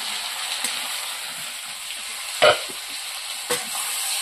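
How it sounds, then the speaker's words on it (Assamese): Cauliflower fries in a pan with salt, turmeric, cumin and chili powder, ginger and garlic, a steady broadband sizzle with a couple of sharper scraping clicks as it is stirred, close and continuous with no talk. "ফুলকবিখিনি ভাজি হৈছে"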